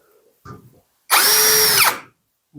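A hammer drill whirs in one loud, close burst lasting under a second, starting abruptly and winding down, after a brief soft knock.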